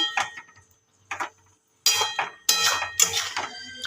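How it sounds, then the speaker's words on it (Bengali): Mustard-poppy paste being stirred into flat beans in a pan, a spoon scraping and clinking against the pan in several separate bursts of close, moderately loud clatter with short pauses between them. "এটাকে ভালোভাবে মিশিয়ে দিচ্ছি সর্ষে পোস্তটাকে সিমের সাথে"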